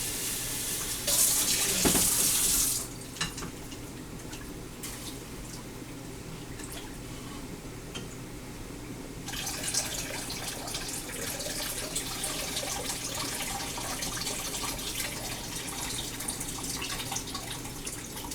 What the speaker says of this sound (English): I'm going to rinse them.